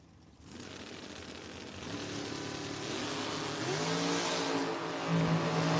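A 2013 Camaro and a Cavalier drag race car launch side by side at a drag strip, engines swelling from a sudden burst into a rising, sustained roar with climbing revs, loud and alone without talk.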